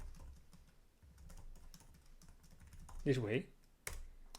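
Light computer keyboard typing of a command on an IBM i system, soft scattered key taps clicking throughout, interrupted midway by a brief spoken phrase and ending with a sharper keystroke.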